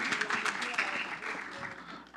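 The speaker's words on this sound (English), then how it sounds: "let's give them a round of applause for their service" Applause at a city council meeting, a brief burst of clapping from a modest crowd in a meeting room, fading toward the end with voices mixed in.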